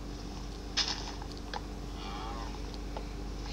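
A cow moos in the Minecraft video game, giving one drawn-out low call over a steady game background hum, with a few soft clicks nearby.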